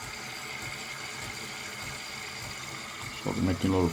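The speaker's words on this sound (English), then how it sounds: "it's pumping milk for the first time" A De'Longhi Autentica ETAM 29.660.SB coffee machine pumps and froths milk with a steady, close buzzing hum, and a voice speaks briefly over it near the end.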